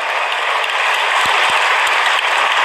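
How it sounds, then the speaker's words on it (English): A crowd claps loudly for a volunteer on stage at a tech presentation, a thick sustained burst of applause with a few sharper thumps inside it. "Big round of applause for Elsa"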